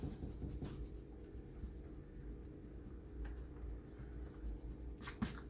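A pencil traces and draws on paper, giving quiet, close scratchy strokes that run continuously with small bursts of faster rubbing, and no speech.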